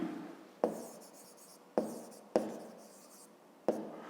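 A pen writes on paper during a math lesson, four sharp onsets of scratchy strokes, each fading quickly, heard close and quiet with no talking.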